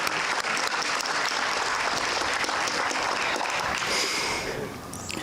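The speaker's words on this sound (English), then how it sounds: "one more amazing round of applause for Lisa Geyer" An audience at a staff recognition awards ceremony gives a sustained, dense round of applause, loud and steady, tapering slightly near the end.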